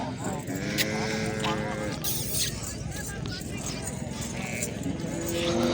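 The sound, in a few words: goats bleating at goat market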